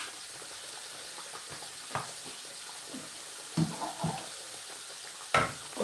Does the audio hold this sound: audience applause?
no